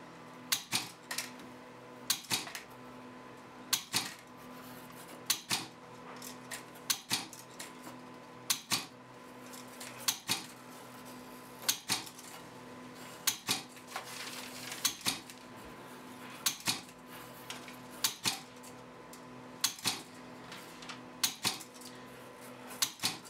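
An Arduino-built resistor cutter with solenoid-driven scissors geared onto a small cog under the blades rattles steadily, its sharp clacking snips repeating in a regular rhythm over a constant motor hum, close and clear with no talk.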